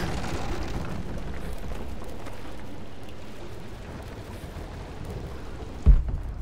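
Greek fire erupts in Rise of the Tomb Raider as a rumbling, crackling roar that slowly fades over several seconds, then a sharp, deep thump cuts in near the end; no speech.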